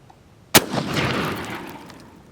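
A single heavy shotgun blast in a video game, loud and close, with a long rumbling tail that fades over about two seconds.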